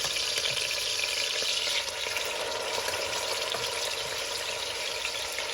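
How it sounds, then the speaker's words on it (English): Mushrooms sizzle loudly and steadily in a hot frying pan, a continuous crackling hiss with faint scattered pops, close by. "Oh, yeah, that's a nice sizzle."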